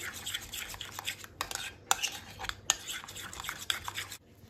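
Chicken marinade being stirred in a bowl gives soft, irregular scraping and squelching strokes with a few sharper clinks, fairly quiet and close, no talking.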